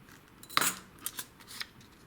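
A sharp snip and a few softer cuts as a blade trims rolled-out icing for a Lego toy soldier cake topper, close and brief, with no voices.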